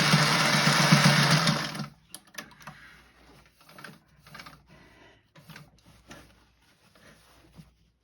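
A sewing machine back stitches a thick seam on a hinged cockpit cushion. It runs in a loud, steady stretch, then breaks into short, irregular stitching bursts with pauses between them.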